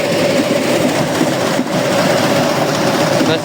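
A pumpkin combine harvester with a pumpkin picker and seed-separating auger running, giving a loud, constant mechanical drone with a steady hum and rattling that does not let up.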